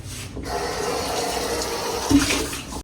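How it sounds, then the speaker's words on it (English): Bowl being rinsed at a kitchen sink, a steady close rush of running tap water splashing into the bowl for a few seconds. "Let me rinse this bowl out."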